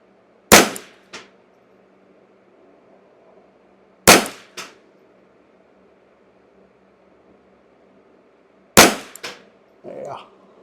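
Three sharp Ruger 10/22 rifle shots with hotter .22 ammunition, spaced a few seconds apart, each loud crack followed by a quick echo or clank, with quiet background hum between them.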